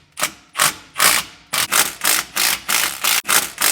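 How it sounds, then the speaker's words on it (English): Rapid ratchet clicking in short repeated bursts, about nine strokes in a steady rhythm, as 10mm bolts on a Spicer performance differential cover are broken loose; close and loud with no talking. "First things first, I'm going to break these 10mm bolts loose."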